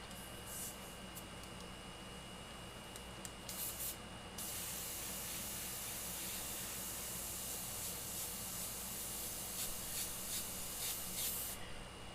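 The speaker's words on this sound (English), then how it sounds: "I'm going to give it this a good old mist" An airbrush sprays a fine mist of sepia-tone paint onto a custom-painted aviator skull, a steady close hiss that runs continuously, briefly pausing early on before resuming at full strength.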